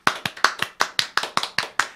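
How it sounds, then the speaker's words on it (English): A few people clap briskly and unevenly up close, a short spatter of sharp hand claps with no talking over it. "let's give a hats off and a good round of applause"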